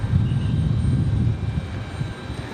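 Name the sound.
Delta Embraer E175 jet taxiing at RDU airport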